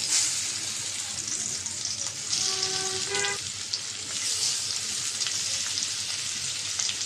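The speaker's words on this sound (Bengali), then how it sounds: "তাওয়া যেহেতু মাছ ভাজবো তাই তেল দিয়ে দিলাম আর তাওয়াটাও বসাই দিয়েছি" Koi fish fries in oil on a hot tawa, giving a loud, continuous close sizzle and spatter, with a brief metallic ringing clink of a utensil in the middle.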